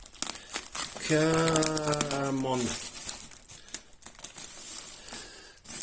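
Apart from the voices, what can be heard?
plastic bag crinkling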